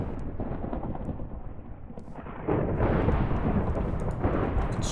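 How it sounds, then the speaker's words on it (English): Lightning bolts from Zeus's relic in a Minecraft mod crash down as a dense, rumbling roar that swells louder partway through and keeps crackling without pause. "you can strike lightning wherever the heck you want"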